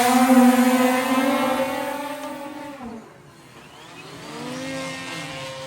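A SkyLane-250 VTOL fixed-wing drone lifts off under its hover motors with a loud, steady multi-rotor whine that dips sharply around the midpoint, then climbs again and holds as it rises, with no talk over it.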